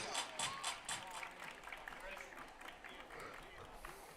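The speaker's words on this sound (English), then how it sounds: "Everybody clap your hands." Crowd at a minor-league baseball game clapping hands together, a dense, steady patter of many hands with rhythmic bursts, moderately distant and fairly quiet, with faint voices mixed in.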